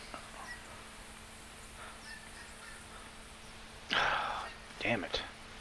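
Canada geese call in the hunting game theHunter Classic, set in Hirschfelden: a burst of honking around four seconds in, then a second cluster near the end, both rising over a quiet outdoor ambience.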